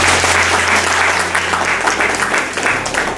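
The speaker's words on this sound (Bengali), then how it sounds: "আপনারা আপনাদের জন্য একবার নিজেদের জন্য হাততালি দেবেন" A seated audience at a microfinance staff training session bursts into sustained applause, a dense, loud patter of many hands clapping steadily throughout with a low hum beneath.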